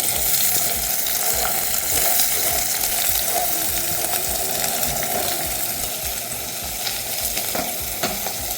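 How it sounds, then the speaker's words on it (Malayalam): Chopped onion and chili sizzling in a hot pan for a mushroom roast, a dense, steady frying hiss with occasional stirring scrapes, close and continuous throughout. "ഇനി അരിഞ്ഞ് വെച്ചേക്കുന്ന സവാള ഇട്ട് കൊടുക്കാം. അതിന് കൂടെ തന്നെ മുളകും കൂടി ഇടുന്നുണ്ട്."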